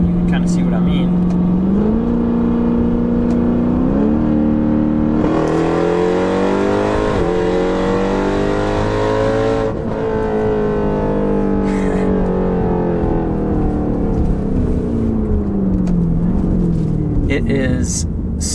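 A 1000-horsepower Jeep Trackhawk accelerates hard through several gears in loud, sustained pulls, its engine note climbing, dropping at each shift and climbing again, with a voice talking over the roar.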